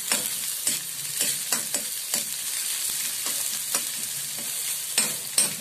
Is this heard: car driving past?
no